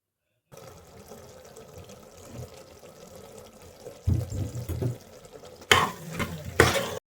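Masala gravy frying in oil in a hostel-style home kitchen, a steady close sizzle with bursts of stirring and scraping in the pan toward the end.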